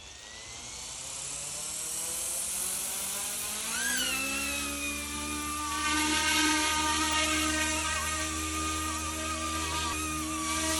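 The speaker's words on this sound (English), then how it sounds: "So this helicopter here has crazy power, as you can see." A YU-XIANG F11 GPS-stabilised RC helicopter spools up and takes off, its high electric motor whine and rotor buzz rising in pitch and then holding steady, loud and close, with no talking.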